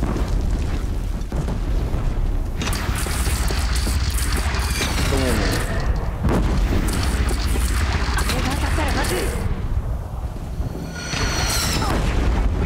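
Cannon fire and explosions in the video game Horizon Zero Dawn, with repeated booming blasts and crackling debris layered over a dense, continuous battle din.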